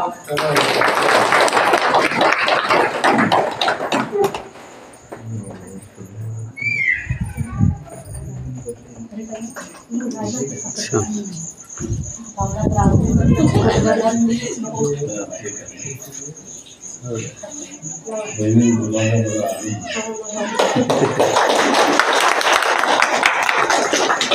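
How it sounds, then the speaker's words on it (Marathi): An outdoor crowd at a village development event claps steadily in a dense wash of applause at the start and again at the end, with someone speaking over a microphone in between. "टाळ्या वाजवा."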